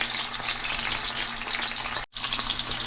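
Salmon fries in olive oil in an iron skillet. A loud, continuous crackling sizzle runs throughout and cuts out briefly near the end before resuming. No speech.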